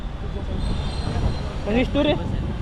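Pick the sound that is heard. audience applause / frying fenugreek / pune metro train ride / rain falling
pune metro train ride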